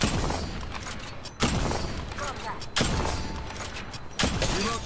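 Gunfire from Apex Legends Mobile played on a DualShock 4 gamepad: three loud, broadband shot bursts spaced about 1.4 seconds apart, each followed by a brief decay, over a steady bed of in-game ambience and a voice talking.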